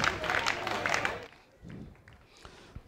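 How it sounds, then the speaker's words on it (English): Students clap in a crowd at a college of education's 75th anniversary celebration. A dense burst of applause lasts about a second, then drops away to quiet, scattered noise. "Oh, students, clap for me, clap for us, clap for them."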